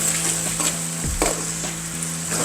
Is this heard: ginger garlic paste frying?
yes